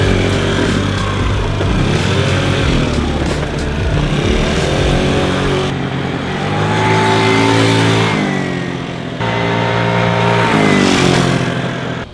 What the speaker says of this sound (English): Scooter's running.